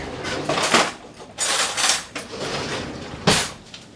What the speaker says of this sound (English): I'm going to grab me a bowl and a fork.